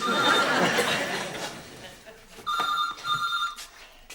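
A household telephone rings in a 1992 British sitcom scene, giving a double electronic trill after a stretch of chuckling and room noise.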